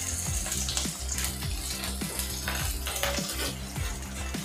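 Garlic, ginger and long-cut capsicum strips sizzle and fry steadily in a hot pan for paneer chilli, with close, continuous crackle and occasional soft clinks of a utensil.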